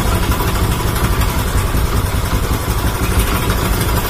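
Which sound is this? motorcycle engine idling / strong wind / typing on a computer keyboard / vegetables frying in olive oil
motorcycle engine idling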